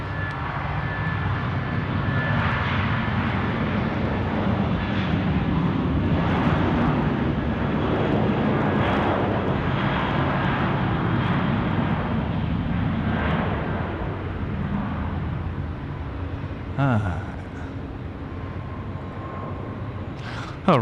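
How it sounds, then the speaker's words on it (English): An All Nippon Airways airliner taxis along the main taxiway at Sydney Airport on a foggy night, giving a steady, loud engine roar and whine that holds for most of the stretch and eases near the end. "catch our All Nippon Airways friends coming down the main taxiway Alpha here at Sydney Airport"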